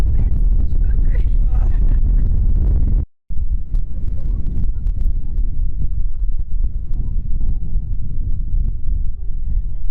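A strong wind storm on Fuerteventura hits the microphone with loud, continuous rumbling buffeting that drops out briefly and then returns, with no voices.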